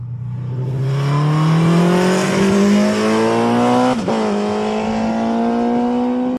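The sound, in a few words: car driving on a race circuit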